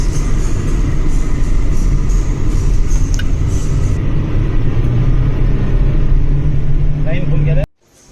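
Ride inside a priest's car heading home in Konkan, a loud, steady engine and road rumble throughout with possible faint voices, cutting off abruptly near the end.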